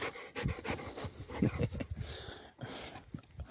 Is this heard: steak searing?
no